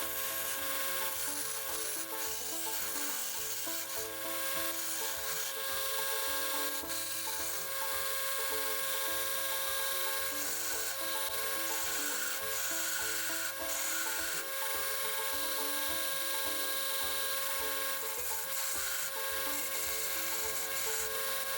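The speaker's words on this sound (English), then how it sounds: "I am just using a 40 grit belt to do all of this shaping." A belt grinder running a coarse 40 grit belt shapes a knife blank in a knife-making shop, giving a loud, steady abrasive rasp close by that continues without a break, with no voices over it.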